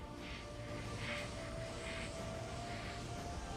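An airbrush fed by a compressor set at 30 psi sprays acrylic paint onto a scale model Spitfire, giving a faint, continuous hiss with a steady hum and slight pulsing.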